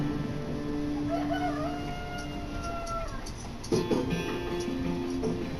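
Chickens cluck around the coops while a rooster crows with drawn-out, rising calls, close and fairly loud, followed by a flurry of clucking and squawks.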